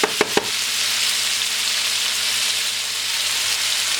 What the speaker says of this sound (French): on fait transpirer les légumes